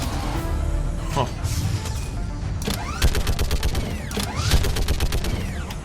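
Rapid bursts of gunfire from a weapon in Mass Effect 3, loud and sharp, with clustered shots and booming impacts over a dense backdrop of battle noise and music.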